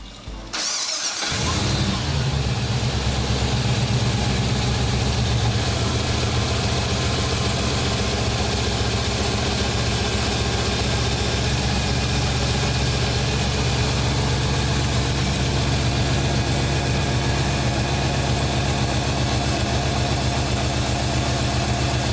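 An LSA V8 swapped into a Nissan GU Patrol 4x4 cranks and fires on its first start-up, then settles into a steady, loud, rumbling idle that continues without a break.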